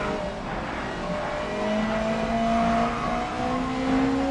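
Race cars roar through a Grid Legends racing game, engine pitch climbing steadily as one accelerates while other engines hum alongside, with a faint tire squeal; loud and continuous with no talking.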